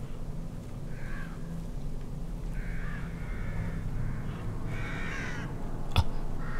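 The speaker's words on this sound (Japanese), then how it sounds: "あ、カラスか。" A crow caws a few times at a moderate distance over a steady low ambient rumble in a dim forest in the video game Psycho Break (The Evil Within), followed by a sharp brief knock near the end.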